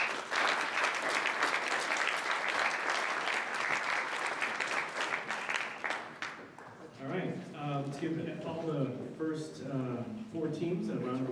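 Dense, steady applause from an audience at a spring design challenge showcase, honoring the competing design teams, fills the first six seconds before thinning out as a speaker's voice takes over.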